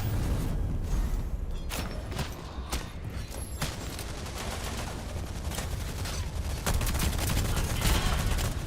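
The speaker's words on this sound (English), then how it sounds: "Oh, we're using shotguns." Video game gunfire with shotguns in play rattles steadily throughout as repeated sharp bursts over dense, busy game noise, loud and sustained, with no clear speech.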